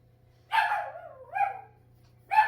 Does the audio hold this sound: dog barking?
yes